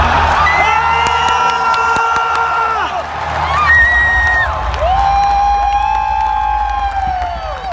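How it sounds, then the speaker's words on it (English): A crowded audience cheers and whoops loudly for The Last of Us Part II reveal, a dense sustained roar with shouts and scattered whistles rising over steady applause throughout. "exploded into applause at the shot of the Fireflies logo, which revealed this was a sequel to The Last of Us"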